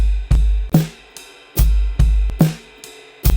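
Drum kit laying down a worship-style Holy Spirit groove, punchy kick and snare hits with cymbal wash in a steady pattern, close and loud with no voices.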